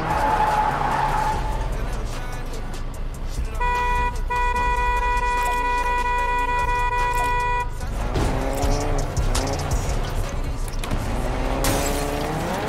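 A car is being driven, with the engine running steadily under road noise, a sustained horn-like tone in the middle and a rising engine whine near the end, as people talk now and then.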